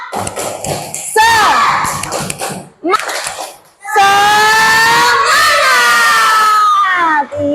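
Second-grade children in an Indonesian classroom perform the tepuk semangat clapping chant, loud shouted voices mixed with rhythmic claps, briefly pausing before a second burst of group chanting and cheering.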